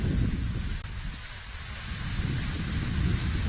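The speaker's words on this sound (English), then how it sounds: "as the rain intensifies again" Heavy rain pours steadily outdoors during a lawn bowls championship semi-final, a dense continuous roar with deep rumbling thunder underneath, loud and close throughout with no voices.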